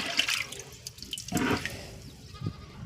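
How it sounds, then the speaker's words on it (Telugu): Chickpeas being washed by hand in a tub of water, with sloshing and splashing that swells in a couple of bursts over a steady watery background, close and moderately loud, with no talking. "శనగల్ని టబ్బులో పోసానండి, వాటర్ ఉన్న టబ్బులో. ఇవన్నీ కడిగేసుకుంటున్నాను అనమాట."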